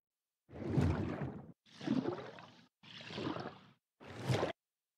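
Distant dragon calls in the Day of Dragons video game, four separate breathy roaring bursts, each about a second long with short silences between, muffled and fairly faint.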